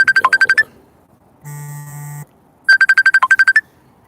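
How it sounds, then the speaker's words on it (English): A phone ringtone signals an incoming call with two bursts of rapid electronic beeps separated by a steady buzzing tone, loud and clear near the phone, with no talking. "Can't answer a phone call while doing a live, brother."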